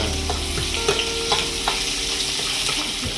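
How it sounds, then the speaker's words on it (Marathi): Garlic cloves and curry leaves fry in hot oil with a steady, close sizzle, punctuated by a few sharp pops and light stirring scrapes throughout. "तीन चार पाकळ्या घातल्या आणि थोडासा कढीपत्ता ओके थोडंसं ते डालवून घेऊया"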